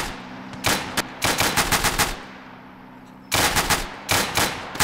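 A Tetrarch tank's 7.92 Besa machine guns fire in a Gates of Hell battle, loud rapid bursts broken by short pauses, with a longer sustained burst near the end.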